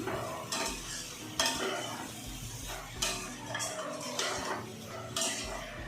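Ol (yam) curry being stirred in a pan after a splash of water, the spoon scraping and clinking against the pan in repeated strokes over a low sizzle.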